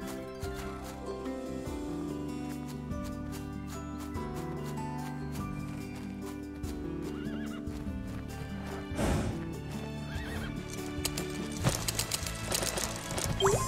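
Horse hooves clop rhythmically amid busy game music in Horse Club Adventures 2: Hazelwood Stories, with a brief whinny rising near the end over a dense, steady backdrop.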